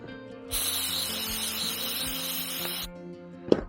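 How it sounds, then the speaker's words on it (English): A single sustained spray of degreaser from an aerosol can hisses for about two seconds, cutting off abruptly, followed by a short clunk as the can is handled. "So now I'll give it another spray out."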